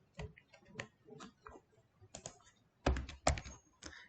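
Typing on a computer keyboard, scattered clicky keystrokes in uneven bursts, close and fairly quiet, with a cluster of sharper taps near the end.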